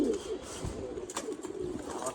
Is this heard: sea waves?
no